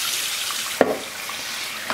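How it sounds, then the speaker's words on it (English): Freshly boiled broccoli drops into an ice water bath with a single sharp splash over a constant background hiss of running water. "We're going to get it out of here and put it straight over there in the ice bath."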